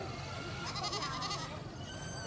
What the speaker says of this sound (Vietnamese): Dê, dê, dê